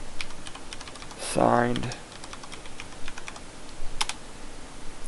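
Clicky keystrokes on a computer keyboard while entering a command to view a signed, encrypted message file, with a short spoken word over the typing and scattered key taps continuing after.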